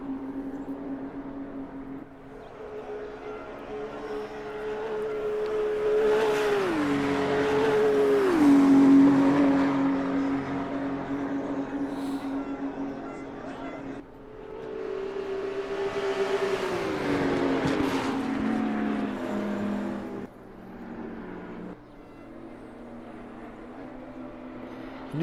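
Porsche 944 race cars in a vintage racing series roar around the track in two loud passes, engines rising and falling through gear changes with occasional tire squeal, fading between passes.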